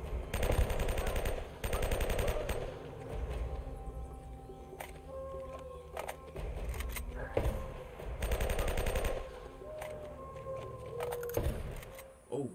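M4 rifle fire in Uncharted: Drake's Fortune sounds in rapid automatic bursts, loud and repeated, broken by short pauses, with faint game sounds between the bursts.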